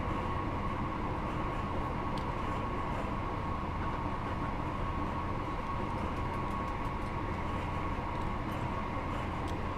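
A ScotRail Class 158 diesel train in Train Sim World 4 runs at speed, a steady loud rumble and roar of engine and wheels with constant broadband rail noise and no pauses.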